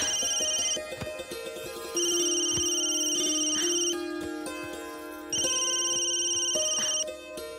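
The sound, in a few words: phone ringtone, incoming call from aunt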